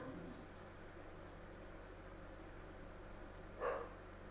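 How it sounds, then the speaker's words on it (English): A single short dog bark rings out near the end, rising briefly above a steady low background hum; nothing else stands out. "Oh my God, that dog."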